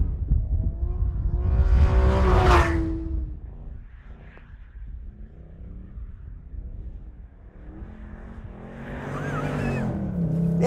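A Mercedes-Benz C63 AMG Black Series is driven hard on track at Anglesey on cold Dunlop semi-slick tyres. The engine rises in a loud rev early on, drops to a lower drone, then climbs again with tyre squeal near the end.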